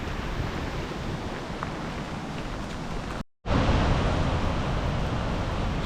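Henrhyd Falls in winter rushes with a continuous broad roar of falling water, loud and near, broken only by a very brief gap before the same dense torrent resumes.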